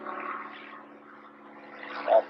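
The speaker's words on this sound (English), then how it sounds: "There's just someone out in a private plane" Low-flying private propeller plane droning steadily overhead near an off-grid cabin in rural West Virginia, a continuous hum that swells slightly toward the end.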